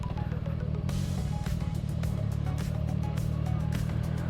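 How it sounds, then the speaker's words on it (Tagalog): Motorcycle engine pulling in first gear, a steady loud low drone with harmonic whine and rumble throughout, heard close while riding, with no talking. "Dana, ingay nung gear 1."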